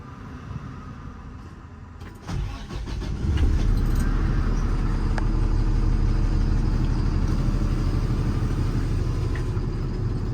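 A 2018 International mechanics truck with a Cummins diesel engine starts with a short cranking burst, then settles into a loud, steady low rumble that continues close by as it idles and pulls away.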